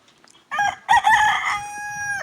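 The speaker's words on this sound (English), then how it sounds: "I'm gonna feed some to the fowl." A rooster crows close by in a single strong call, with a few soft clucks from farm fowl just before it and no talk.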